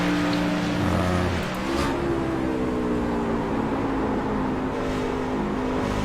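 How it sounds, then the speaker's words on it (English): A race truck at Phoenix heard from an in-car camera: a loud, steady engine drone with shifting pitch as it downshifts through a turn, continuous and close with no voices. "he's downshifting in the turn"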